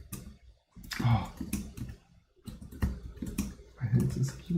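Rapid keystrokes clatter on a computer keyboard in short bursts with brief pauses, up close at moderate volume, mixed with muttered speech.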